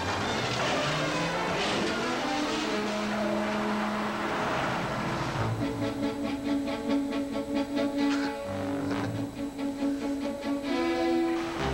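A car driving along, its engine a steady hum with shifting tones and some rhythmic rattling in the second half, fairly quiet.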